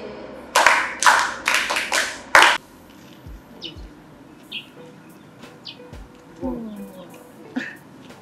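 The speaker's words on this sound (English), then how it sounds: "Now clap for yourself." One person claps for themselves in a few quick bursts of sharp, close hand claps, followed by sparse taps and soft background sounds with faint bird chirps.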